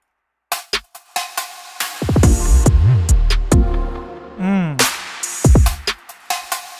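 Synth plucks in a K-pop R&B track, short percussive notes that begin after a half-second of silence, with pitch-bent tones, low bass thumps and bright bursts in a steady groove.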